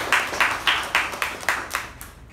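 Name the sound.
applause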